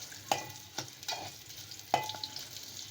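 Onions fry quietly in oil in a pan, a soft low hiss broken by a few light clicks of a utensil against the pan.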